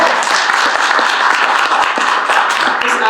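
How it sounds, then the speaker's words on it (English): An audience at a seniors' event claps loudly and steadily, a dense, continuous applause that fills the room without a break. "You can clap for that."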